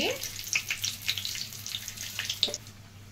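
Dried red chillies and asafoetida frying in hot oil give a quiet, crackly sizzle with scattered sharp pops and spits over a low background hum.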